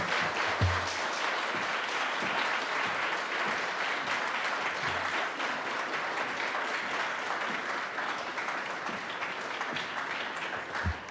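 Sustained, even audience applause at a poetry reading welcoming poet Marilyn Hacker, a dense crowd clapping steadily at full strength throughout with no voices.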